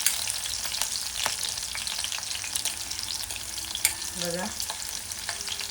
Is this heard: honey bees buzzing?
no